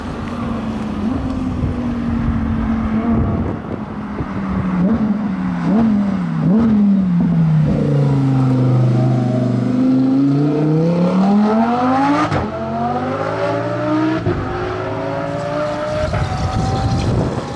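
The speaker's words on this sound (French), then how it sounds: "en parlant du Huracan Evo Accra, je l'entends revenir" A Lamborghini Huracán Evo with an Akrapovič exhaust roars and revs hard, shifting gears with sharp pops as it builds and sweeps past close by.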